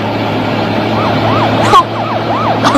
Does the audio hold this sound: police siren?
yes